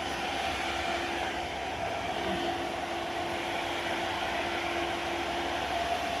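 A high-speed KF94 fish-shaped mask machine with 17 servo motors, making 120-160 masks per minute, runs with a steady, even mechanical hum and a faint sustained whine.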